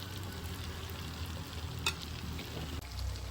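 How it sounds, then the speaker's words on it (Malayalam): Fish pieces sizzle steadily in hot oil as they fry for fish biryani, a close, continuous crackle with a brief sharper pop midway. "ബാക്കിയുള്ള എല്ലാ മീനും ഇതുപോലെ ഒന്ന് ഫ്രൈ ചെയ്തെടുക്കാം."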